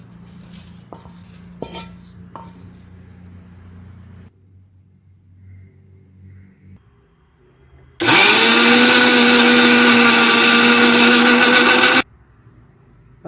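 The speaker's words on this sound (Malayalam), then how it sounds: "നമുക്കിനി ഇത് മിക്സിയുടെ ജാറിലോട്ട് ഇട്ടിട്ട് നന്നായിട്ടൊന്ന്" A mixer grinder blends roasted coconut into paste, a loud steady whirring motor burst of about four seconds, preceded by soft clinks of dishes and jar handling.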